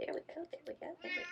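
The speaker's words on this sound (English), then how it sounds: "that's my cat again" A Siamese cat meows several times in short bursts close by, mixed in with someone talking softly over it.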